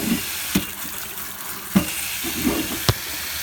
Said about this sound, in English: Of course, you need to wash them.